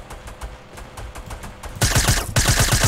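Fortnite gunfire crackles in quick bursts, with lighter distant shots giving way to a loud, dense, rapid volley close by near the end, with no talking over it.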